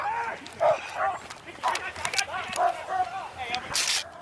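Several dogs bark and yip in repeated sharp bursts at moderate distance, mixed with background voices.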